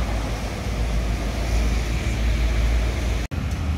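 A Delima Sri Gemilang Jetbus 5 coach pulls away with a steady, loud engine roar and broad road noise that holds constant, broken by a brief cut near the end.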